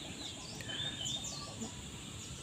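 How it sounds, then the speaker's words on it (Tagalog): Chickens at a resort in Silang, Cavite, give faint scattered clucks and squawks over a steady outdoor hiss, heard at a distance for a couple of seconds. "May manok pa."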